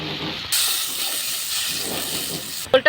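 Mustard paste mixed with water boiling hard in a pan, a loud steady hiss of bubbling and steam that starts abruptly and runs on, with a brief clatter at the end.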